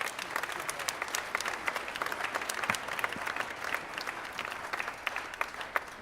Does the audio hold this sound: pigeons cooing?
no